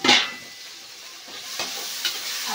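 Biryani masala being stirred in a pan, a loud scrape and sizzle at the start followed by quieter frying hiss and a few more stirring scrapes, without talk.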